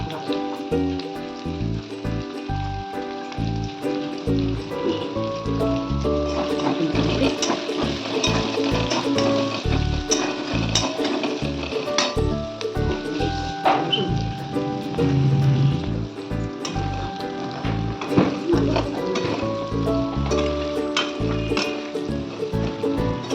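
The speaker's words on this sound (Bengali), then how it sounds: "এখন পেঁয়াজগুলো ভালো করে ভেজে নেব।" Diced onions fry in hot oil with a steady, dense sizzle and crackle that runs without a break. Occasional stirring and a few light clinks of a utensil sit under the frying.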